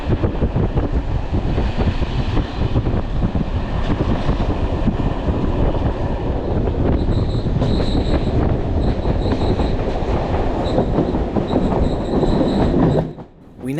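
A French sleeper train runs on rails between Paris and the Pyrenees with a dense, steady rumble of wheels and carriage. Faint high squeals come and go over the roar, which drops away abruptly at the very end. No one speaks.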